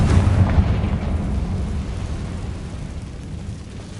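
A Confringo spell blast from Hogwarts Legacy detonates in a loud, rumbling burst at the start, its deep roar slowly fading into a long decaying tail.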